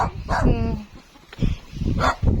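A dog barks and yips a few times close by, mixed with excited human voices talking over it.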